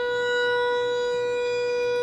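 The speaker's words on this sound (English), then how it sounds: "the air raid siren going on over my head" An air raid siren wails directly overhead, a loud, sustained tone with stacked steady pitches that fills the whole stretch without any speech.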